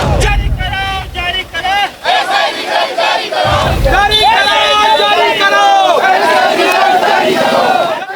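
Crowd of young people protesting over the long-delayed Chhattisgarh sub-inspector recruitment results during a candle march, loud chanting slogans in unison and rising shouts close by, with a speaking voice mixed over the noisy crowd.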